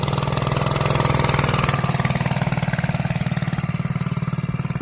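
A CRZ Racer 100cc go-kart engine runs close by on an easy first lap, with a rapid, buzzing pulse that rises slightly, then eases off steadily.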